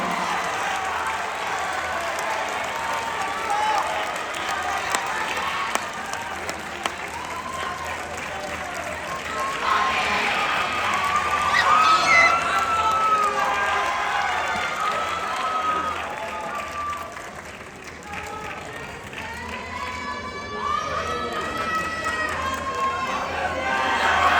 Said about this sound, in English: Give a round of applause for those individuals.